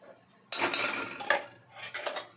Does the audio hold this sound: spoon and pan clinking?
yes